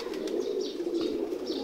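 Kamal pigeons coo softly and continuously at close range, with faint chirps and wing movement in a brief stretch.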